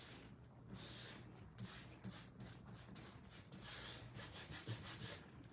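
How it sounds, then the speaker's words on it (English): Hand sanding a wooden piece with a worn sanding strip while making a 9-inch round DIY craft: steady rasping back-and-forth strokes, close and fairly loud, with an even rhythm and no talking. "I feel like I need a new sanding strip because this is not really doing it."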